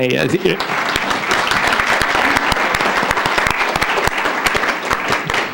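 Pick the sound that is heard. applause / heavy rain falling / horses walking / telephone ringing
applause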